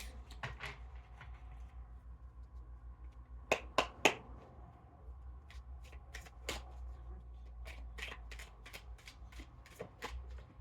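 Sharp, quick bursts of tarot cards being shuffled, a few loud flurries then a steady run of crisp riffles over a low background hum.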